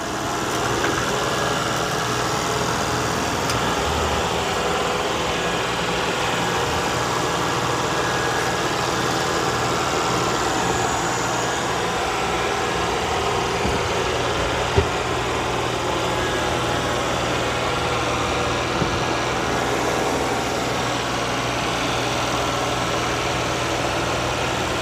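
Eufy C10 robot vacuum cleaning the middle of a floor, giving a steady, even motor whir with a constant low hum that runs unbroken and fairly close throughout, with no talking.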